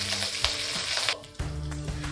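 Curry leaves hit hot oil for a chicken dish and sputter with a loud, close sizzle. After a brief dip the hiss turns to a steady crackling fry with no voices.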